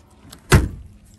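A drawer in a vintage desk is pulled open with one short, close thud and a brief scrape, alone in an otherwise quiet room.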